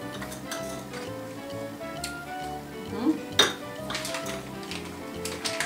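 A spoon clinks against a bowl as sugar is spooned in for a sour-cream glaze for a chocolate marble kefir cake, with several light, uneven taps over a steady, murmuring background.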